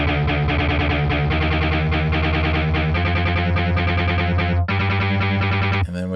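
Industrial metal synth guitar played as distorted KMG7 power-guitar chords in Logic Pro, run through an amp, compressor and EQ, with a dense, loud, steady churning wall of sound and a brief dropout near the end.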